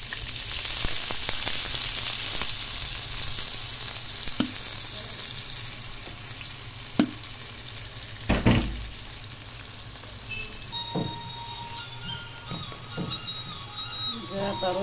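Lentils and spices frying in hot oil in a pan, a bright steady sizzle with occasional stirring clinks and scrapes, close by, while someone talks over it.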